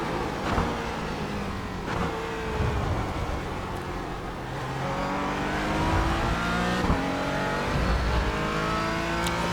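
Porsche Cayman GT4 engine in the iRacing sim at Laguna Seca, revving and downshifting under braking into a corner, with rising and falling harmonic tones and steady loud engine drone throughout, no talk.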